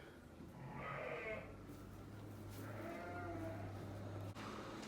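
Sheep on a farm during lambing season bleat in two drawn-out calls, fairly close, over a steady low hum and background noise; no talking.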